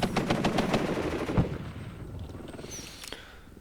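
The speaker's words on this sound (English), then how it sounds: "Machine gun opens up." Machine gun fire in the wargame Warno, a dense run of rapid bursts that starts loud and close, then thins out into quieter scattered shots.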